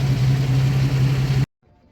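A Jeep Cherokee XJ engine, recently cleaned distributor cap and spark plugs, idles smoothly and steadily with a low, even hum, then cuts off abruptly into near silence.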